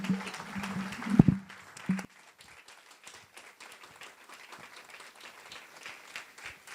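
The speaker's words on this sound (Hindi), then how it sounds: "हम पास्टर साहब को और खुदा के कलाम को हम वेलकम करेंगे तालियों के साथ" A church congregation breaks into loud applause to welcome the pastor, clapping strongly for about two seconds before fading into quiet room sound with scattered light noises.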